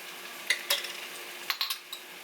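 A big metal spoon clinks and scrapes against a pan while garlic goes in for Mediterranean-style chicken, a few sharp, close metallic taps spaced irregularly over a quiet background.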